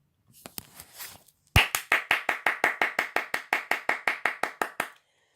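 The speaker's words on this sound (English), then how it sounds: "The applause was long and loud." Applause after a children's stage play: a few scattered claps, then a steady run of about twenty sharp, evenly spaced claps, close and fairly loud, ending abruptly.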